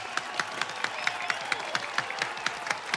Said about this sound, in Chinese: 好，来，掌声欢迎他。